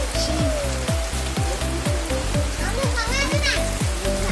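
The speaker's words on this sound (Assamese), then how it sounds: "এতিয়া আমি বৰষুণ এৰালে ৰৈ আছোঁ ইয়াতে" Steady rain pattering on a surface throughout, with voices and tonal sounds carrying over the downpour.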